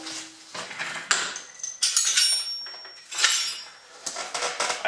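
Metal tools clinking and rattling as a 7/16 wrench is picked up during work on a Troy-Bilt Tomahawk's knife, several sharp close clanks and scrapes at irregular intervals, with no talking.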